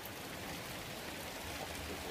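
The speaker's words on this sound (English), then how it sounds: "It's currently raining right now." Steady rain falls and patters on surfaces nearby, a dense even hiss with no voices over it.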